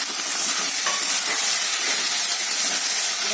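Peas and eggplant frying in spiced oil in a pan for a rohu fish curry, a continuous close sizzle and hiss with faint scraping of stirring underneath, steady throughout and free of talk.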